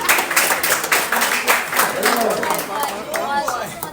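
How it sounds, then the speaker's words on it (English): Crowd clapping at a softball association opening ceremony, a steady mix of hand claps mingled with chatter and a voice talking over it. "Clap him, please."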